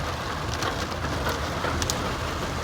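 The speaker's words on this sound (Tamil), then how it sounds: "வெளியே நல்ல மழை, ஏன்னா அலர்ட் கொடுத்துருக்காங்கல்ல." Heavy rain pouring down outside, a dense, constant rushing hiss with scattered louder drop hits, steady and close with no voices.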